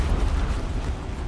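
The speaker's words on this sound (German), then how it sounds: "Eine Explosion." Explosion in the video game Horizon Zero Dawn, a loud, deep rumbling blast that rolls on steadily for over a second with a heavy low-end roar and no speech over it.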